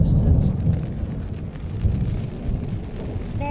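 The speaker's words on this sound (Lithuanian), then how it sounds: "Jeigu girdėjus, tai čia Perkūnija tragiška." A heavy thunderstorm near Warsaw, Poland, with loud rain and a constant deep rumbling roar that fills the whole stretch, partly buffeted by wind noise on the microphone.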